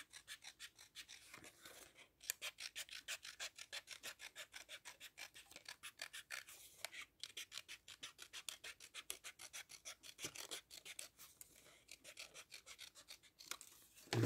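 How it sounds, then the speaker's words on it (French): Scissors snipping through a cardboard circle, a fast steady run of rasping cuts close to the microphone, fairly quiet and continuous with no talk. "là, je viens couper mon cercle avec mon ciseau"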